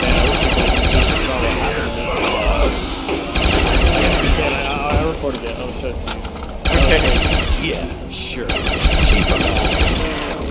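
Automatic gunfire rattles in rapid bursts during a Call of Duty Zombies round on the Shangri-La map. The bursts are loud and broken by brief pauses, and voices talk over parts of the shooting.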